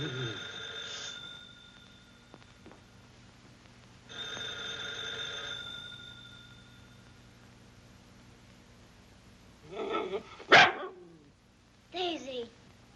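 A dog gives a few sharp barks near the end, after a stretch of quiet broken by two steady electronic ringing tones.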